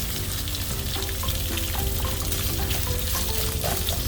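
Shrimp frying in a pan for pad Thai give off a steady, close sizzle and crackle with no break. A faint background hum sits under the frying, and no one speaks.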